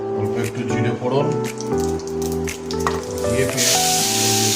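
Cumin seeds hit hot oil in a pan for matar paneer and crackle into a bright hiss that swells near the end. Tonal music or voice runs prominently over the sizzle.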